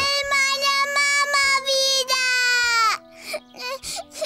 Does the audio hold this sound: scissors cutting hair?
no